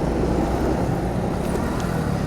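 Steady road traffic from cars on a highway during a drive from Vellore toward Bandipur, a continuous low rumble of engines and tyres with no talk.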